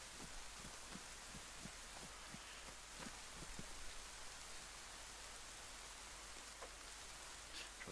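Steady rain falls in the survival game DayZ, a constant soft hiss of drops filling the air, with faint thuds of footsteps scattered through the first few seconds and no voices.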